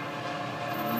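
FEC freight train 210 rolling past, a steady broadband rumble of railcars that holds level and swells slightly toward the end, with a faint tonal line suggesting a distant horn.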